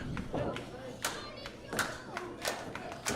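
A crowd at a pro wrestling event claps in scattered, uneven bursts, with sharp thuds mixed in, a fairly faint, moderately distant sound with voices talking over it.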